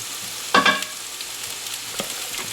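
A vegetable mix hits leftover sausage fat in a pan with a sudden loud sizzling burst, then settles into a softer, steady crackle with a few faint scrapes.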